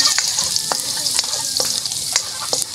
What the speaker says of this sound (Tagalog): Ilagay po yung bawang. Ayan na po. Laluin na po natin.